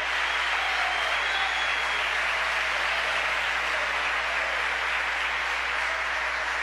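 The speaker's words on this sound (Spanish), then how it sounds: "Denle ese aplauso fuerte al Señor" A church congregation applauds loudly and steadily at a Sunday service, a dense, continuous wash of clapping from many hands that holds at full strength throughout with no voices standing out.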